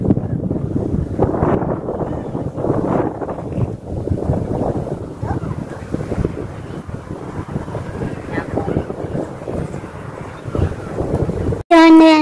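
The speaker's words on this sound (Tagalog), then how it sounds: "Narinig niyo naman yung hangin, napakalakas ng hangin" Strong, cold wind at a park in Dammam, Saudi Arabia, roars and buffets the microphone steadily throughout, with a sudden loud burst right at the end.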